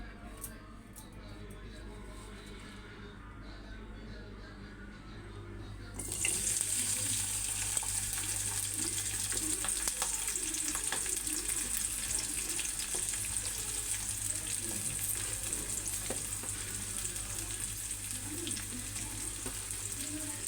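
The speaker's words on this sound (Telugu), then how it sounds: "ఉల్లిపాయలు, పచ్చిమిర్చి వేసుకోవాలి." Chopped onions and green chillies frying in hot oil in a pan for a Punjabi-style okra masala curry, a loud steady sizzle that bursts in partway through and continues close up, with stirring and faint voices in the background.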